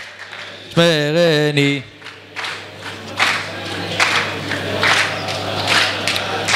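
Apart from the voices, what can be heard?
audience applause for the righteous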